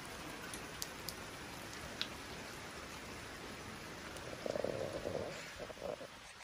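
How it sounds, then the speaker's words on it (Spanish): Small pieces of ice and hail fall in a steady, faint patter, a soft continuous hiss dotted with light ticks, swelling briefly louder toward the end. "Porque están cayendo pedacitos de hielo. Y no sé si... Y no sé si algo de granizo."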